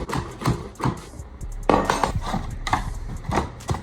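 Repeated hammer strikes on nails in laminate flooring ring out close by in an irregular rhythm, with clattering metallic knocks between blows.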